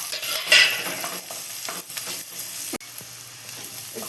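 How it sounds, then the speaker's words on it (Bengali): Onion, carrot and capsicum fry in a pan for a Maggi noodle breakfast, giving a steady close sizzle with stirring scrapes and a brief sharp clatter near the end. "একটু ভাজা ভাজা হয়ে গেল"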